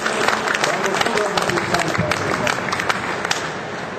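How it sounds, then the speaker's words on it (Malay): An audience at an organizational innovation talk in Malaysia claps in a steady, dense patter of applause that continues throughout, with some crowd murmur mixed in. "Kita beri tepukan juga kepada Puan Datuk Dr. Optimis Optimis."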